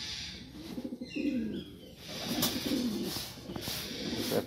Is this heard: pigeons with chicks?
yes